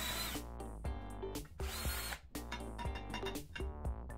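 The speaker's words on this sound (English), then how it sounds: "The holes will be made with a 4mm drill bit." A power drill with a 4mm bit whines in repeated bursts, pitch dipping briefly between them as it bores through aluminum plate, close and loud.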